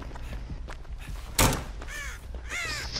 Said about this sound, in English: You crows.